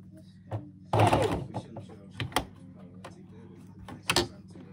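A sewing machine tacks stitches into fabric for a stuffed donkey, making short, close clattering bursts with pauses between them.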